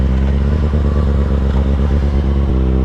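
A Kawasaki 636 stunt motorcycle engine idles loud and close, a throbbing low burble with rhythmic pulses and mechanical clatter, no voices.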